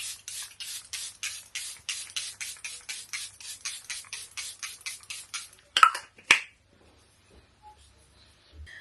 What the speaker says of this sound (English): you go in with the Charlotte Tilbury setting spray, sorry, and drench it